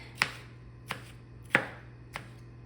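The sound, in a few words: dicing hamburger pickles with a knife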